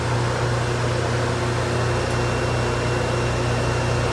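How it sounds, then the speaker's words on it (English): A steady, loud mechanical drone with a low hum from the selector motor of a 1960s Westinghouse high-speed elevator, running continuously in the machine room without change. "That's the motor for the selector."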